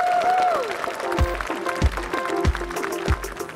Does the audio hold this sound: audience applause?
yes